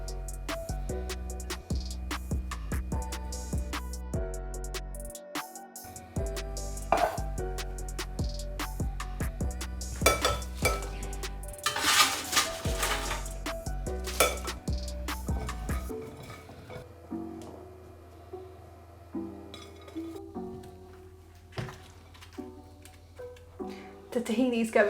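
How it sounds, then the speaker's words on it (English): Food being plated into a bowl with clinking utensils, scraping, and knocks of dishes, close and intermittent over quiet background music, with a spoken voice at times. "Okay, so it's time to just plate it all up now."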